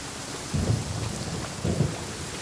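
Rain and thunder in the video game Genshin Impact: a steady hiss of rainfall runs throughout, and two low, rumbling thunder swells roll in and fade over it.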